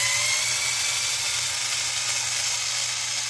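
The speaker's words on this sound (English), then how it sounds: "I forgot that I had this little screw gun. This works pretty good. Those are just pickup screws." A small handheld screw gun whirs steadily as it backs out pickup screws on a Disney Hannah Montana Telecaster-style guitar, a continuous high buzzing motor close to the mic.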